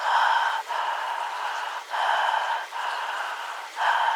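Steady, noisy breaths drawn in and out through the nose during jal neti nasal cleansing with a neti pot, repeating in roughly one-second cycles with brief pauses, close and clear with no talk.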